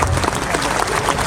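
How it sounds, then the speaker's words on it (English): At a school silver jubilee inauguration, children clap together in a short dense burst of applause, loud and close, with a crowd murmur running underneath. "Yes, children, give a clap."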